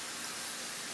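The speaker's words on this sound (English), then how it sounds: "So I'm gonna lightly spray this glass dish," Cooking oil sprayed lightly onto a glass dish, a close, steady, breathy hiss that holds at an even level throughout.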